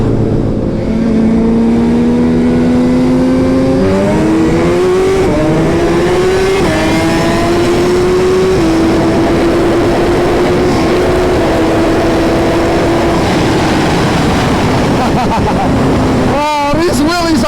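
Suzuki Hayabusa Gen 2 1600cc motorcycles with built motors racing, a loud, continuous engine howl climbing through repeated gear shifts, with rising and falling pitch steps and a sharp rev change near the end, under occasional talk.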